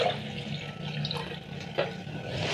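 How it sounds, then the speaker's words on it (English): Four cups of water poured into a cooking pot on a stove, a steady close gush of filling liquid lasting a couple of seconds, with no voices. "I'm going to place a pot over high flame and add in 4 cups of water"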